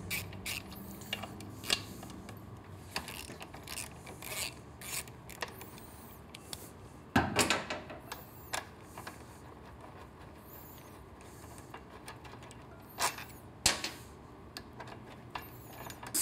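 An 8mm Allen hex bit works two exhaust bolts loose on a Triumph Street Twin motorcycle, giving intermittent metallic clicks and creaks with a sharper burst of ratcheting partway through.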